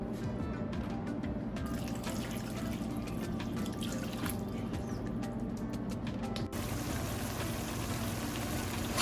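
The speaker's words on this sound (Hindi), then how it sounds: "ये तकरीबन मैं 2 कप पानी इसमें डालूँगा।" Water is poured into a cooking pan with spices in it, about two cups, giving a steady, continuous splashing and dripping fill with a faint sizzle underneath, lasting the whole stretch with no talking.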